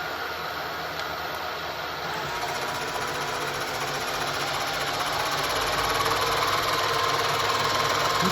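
A milling machine makes a finish cut on a flask end, a steady whirring machine drone with the motor pitch and loudness rising slightly partway through, close and continuous.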